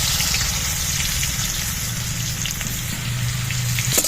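Sliced onion sizzling in hot oil in a pan for a Bengali curry, a dense, steady crackling hiss with small popping bursts, close and constant with no talking.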